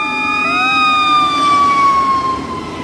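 A red toy fire truck's electronic siren wails alone, a steady, loud, tonal whoop that slowly falls in pitch, over a faint hiss.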